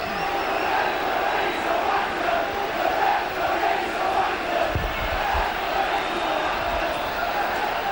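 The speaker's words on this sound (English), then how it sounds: "You can hear what the crowd think of that." A rugby league stadium crowd roars after a Castleford try in a Leeds versus Castleford match, a steady wash of cheering and shouting from a large crowd, with a commentator's voice faintly underneath.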